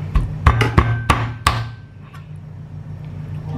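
Five sharp, rhythmic thuds of a cooked chicken being pounded on a cutting board during home cooking of Hainanese chicken rice, close and loud, followed by quiet.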